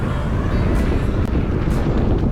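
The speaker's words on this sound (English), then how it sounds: "So windy!" Strong wind blows during an outdoor run, heard as a loud, constant roaring rumble of gusts buffeting the microphone throughout.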